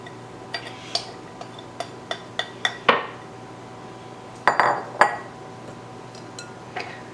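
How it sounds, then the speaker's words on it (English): A utensil mixes sugar, baking powder, salt, flour and almond meal in a bowl for vanilla cupcakes, giving light clinks and taps that build into a few louder scraping clatters, close by and without speech. "Gonna mix it up a little bit and add it to our swifter."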